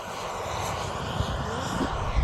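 An RC aerobatic airplane makes a low knife-edge pass from one side to the other, its engine a steady, fairly loud drone held throughout with no talking over it.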